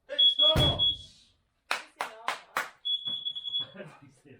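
Carbon monoxide alarms beep steadily in a garage beside a 1969 MGB, a sustained high electronic tone that cuts in and out while people talk over it nearby.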